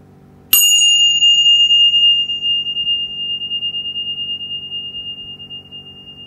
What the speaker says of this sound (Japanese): 場を清めるティンシャの音から始めていきましょう